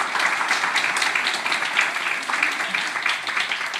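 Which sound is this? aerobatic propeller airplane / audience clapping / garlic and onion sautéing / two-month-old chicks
audience clapping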